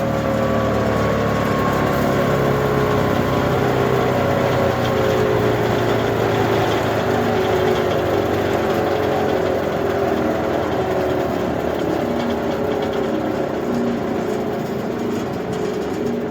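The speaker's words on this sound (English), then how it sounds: "I'm going to kick it in neutral and just let her stop on her own." A heavy flywheel on a Liberty 3-point wood chipper whirs as it spins down in neutral with the tractor off, a steady mechanical hum with slowly falling tones over a long stretch, close and loud.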